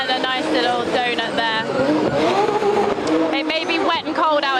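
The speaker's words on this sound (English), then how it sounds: "And a nice little donut" A drift car spins a donut on a wet, cold hillclimb track at the Goodwood Festival of Speed, engine roaring loud and close with tyres squealing in wavering bursts, while an excited commentator talks over it.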